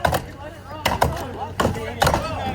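Axes bite into wood at a timbersports competition, several loud sharp chops landing at uneven intervals while an announcer talks over the action.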